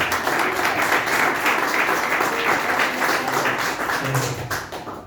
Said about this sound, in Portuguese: Vamos receber o pastor com palmas bem alegres para Jesus.